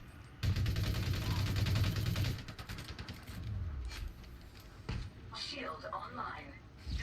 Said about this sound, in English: Firefight in progress at Echo.